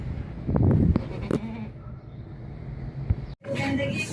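Goat bleating at a livestock market, a loud bleat followed by a few shorter calls amid crowd noise and nearby chatter.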